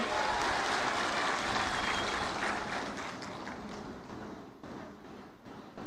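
Clapping fills a large crowd at an outdoor political rally in Sri Sathya Sai district, a dense sustained roar of applause that gradually thins and fades toward the end.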